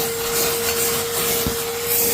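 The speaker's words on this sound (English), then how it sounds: "Boy, would you check out the power in that suction." A vacuum cleaner runs with strong suction while cleaning out a rusty Jeep YJ, giving a steady, close rushing whine with a constant tone and no pauses.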